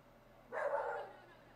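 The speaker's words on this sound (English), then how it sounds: "There's the dog barking." A single dog bark in the medieval strategy video game Field of Glory: Kingdoms, one short, faint muffled woof lasting about half a second.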